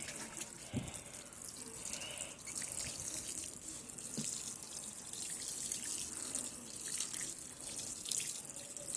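Water poured from a tap or jug onto the soil of a potted coriander plant grown over kitchen waste, a steady close splashing trickle that runs unbroken for the whole stretch, with no talking over it.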